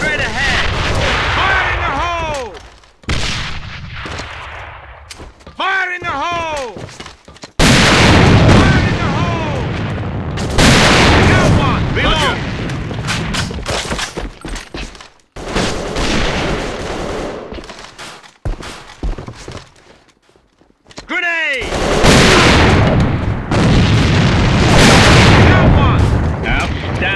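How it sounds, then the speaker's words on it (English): Grenade explosions and heavy gunfire in the shooter game AVA come in long, loud bursts broken by short silent gaps, with booming blasts and rapid shots in close succession. "Grenade straight ahead! Fire in the hole!"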